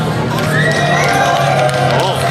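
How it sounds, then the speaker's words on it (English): Crowd at a Clean Culture Japan car meet cheers and whoops loudly for the Toyota 86 after a rev battle, a dense, steady roar of many voices with shouts rising over it. "if you want the 86 to win, make some noise"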